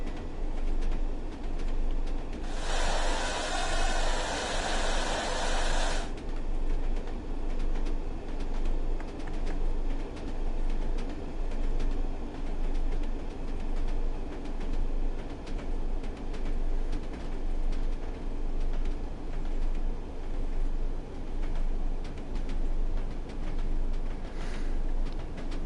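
A train running on the Tees Valley Line in Train Sim World 3: a steady rumbling drone of rolling wheels and engine holds throughout, with a brief brighter hiss burst early on and no talking.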